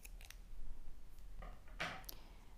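Knitting yarn is snipped with scissors after a knot is tied, giving a couple of quiet, crisp clicks over a faint background.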